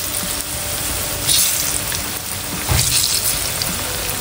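Saba bananas frying in a pan give off a steady, close hiss of sizzling oil, swelling briefly twice as the pieces are moved, with no talking.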